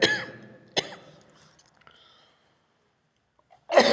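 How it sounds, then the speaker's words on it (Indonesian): A man gives a sharp cough at the start, then a second cough, followed by quieter throat-clearing sounds and a long, nearly silent pause before his voice returns. "sedang batuk."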